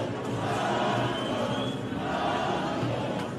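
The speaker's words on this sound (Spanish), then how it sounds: "se hizo viral un vídeo donde el público grita la palabra Tongo." A crowd at a natural bodybuilding competition shouts together, a loud rhythmic chant of the word "tongo" swelling and repeating in a large room.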